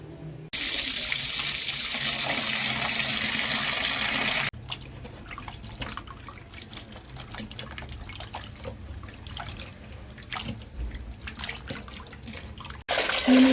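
Goat head meat, greasy from roasting, is washed under a running tap, first a loud steady gush of water and then splashing, sloshing and dripping as the pieces are rinsed by hand, with a final burst of flow.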